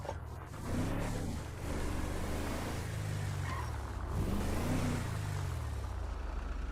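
A car's engine in GTA V hums and revs under a steady drone as it is driven and brought to a stop, moderately loud and continuous, with no talk.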